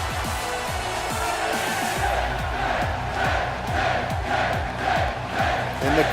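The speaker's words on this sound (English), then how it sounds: "And the crowd is just as excited as I am to see Ty Dillinger" A wrestling arena crowd in the WWE 2K18 video game roars continuously during a wrestler's entrance, a loud, sustained wall of cheering with a pulsing rhythmic beat from entrance music underneath.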